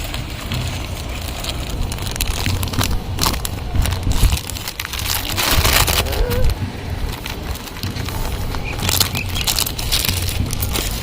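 Rice flour is squeezed and mixed by hand into onion cutlet batter in a bowl, a continuous close, wet crunching and squelching with uneven rhythm, outdoors in a village setting.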